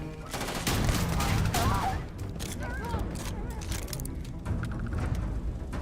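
Gunfire in the video game Starfield: rapid bursts of shots and clattering automatic fire mixed with game effects, while a person talks over the action.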